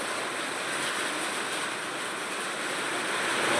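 Heavy monsoon rain drums on tin roof sheets of a village house, a dense, steady roar that swells slightly toward the end, with no talk.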